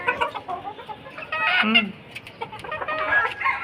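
Several chickens cluck close by in short, uneven bursts, with one louder call in the middle, while a person speaks over them.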